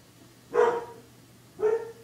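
A dog gives two separate barks about a second apart, fairly close and moderately loud over a quiet indoor background, with no talking.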